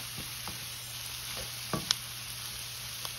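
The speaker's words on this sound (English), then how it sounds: "I'm cooking all of this around. Get the vegetables cooked in here." Vegetables for chicken fried rice sizzle softly in a pan under a steady hiss, with occasional light clicks and scrapes of a utensil stirring them around, close and quiet.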